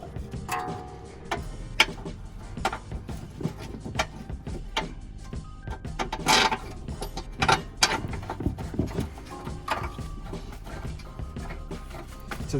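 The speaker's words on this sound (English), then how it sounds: "just tighten this one up so it's in there nice and tight" Tightening a bolt on an Alfa Romeo Giulietta front spring, quick irregular metallic clicks and ratcheting ticks up close, with a few sharper knocks scattered across the span.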